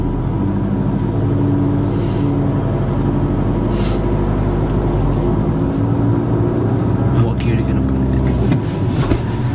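A car engine drones and rumbles steadily from inside the cabin during a driving lesson, a loud continuous low hum with a couple of brief higher whooshes and some rattling toward the end.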